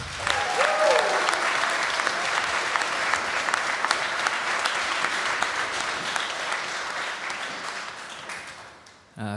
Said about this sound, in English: Can we have a big, big round of applause for Kane Watson